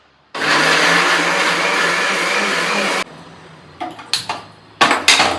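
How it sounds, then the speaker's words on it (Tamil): A mixer grinder grinds cashew paste for paneer butter masala in a home kitchen: a loud, steady electric whir runs for about three seconds and then cuts off, followed by a few sharp clinks and clatters as the jar is handled. "இப்போ வந்து பன்னீர் வந்துச்சு பன்னீருக்கு ரெடி பண்ணதை வந்து அரைச்சிக்கலாம்"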